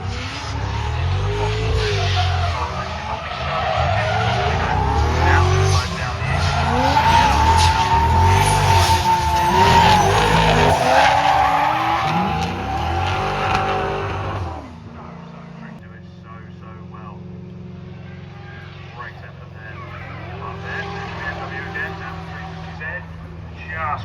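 Two cars tandem drifting at a drift event, engines roaring and tyres skidding loudly for about fifteen seconds before fading to quieter background noise, with commentary talking over the action.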